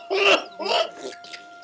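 An old man coughs three times in quick succession, each harsh burst close and loud, tapering off with the last one.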